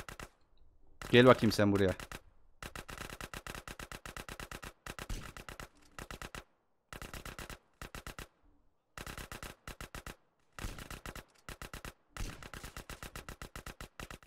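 Rapid bursts of gunfire in GTA: San Andreas come in repeated rattling volleys broken by brief pauses. One short spoken line sounds near the start.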